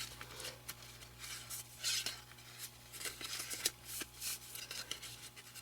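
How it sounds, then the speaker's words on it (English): Scissors trim the uneven edges of the pages of a small handmade paper booklet, giving quiet, close, repeated snips and light paper rustles at an irregular pace. "I'm just going in with my scissors and making that even on any of those pages that are kind of wonky"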